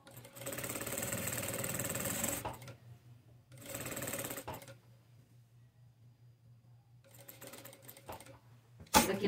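Sewing machine running in short bursts as it stitches bias binding on a men's shirt, a close, fast mechanical whir with a low hum underneath, pausing between runs and resuming three times.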